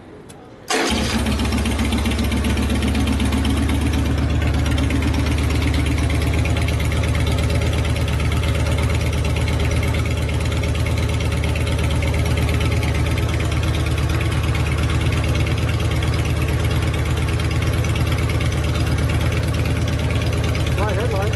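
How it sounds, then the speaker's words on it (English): A custom Evo-engine Harley chopper, a rigid bobber, starts up and then idles steadily and loudly for the rest of the stretch, its deep uneven throb close by. Voices talk faintly underneath. "So it's definitely a good motor."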